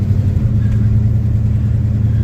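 A 1972 Buick Skylark with a 455 V8 cruising on the road near Orange County, New York, a steady low engine rumble heard from inside the car, loud and even.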